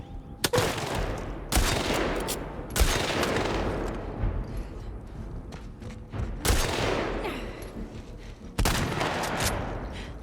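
Gunfire in The Last of Us Part II, with several loud bursts of rapid shots separated by short gaps and ringing decay, with no voices over them.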